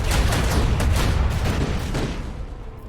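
Macro cannon volley from a warship in the video game Rogue Trader, a dense rumbling burst of heavy booming shots that rolls on and slowly fades, loud and without talk.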